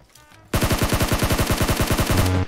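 Rapid automatic gunfire in a video game, a loud sustained burst of evenly spaced shots after a brief quieter lead-in, ending abruptly.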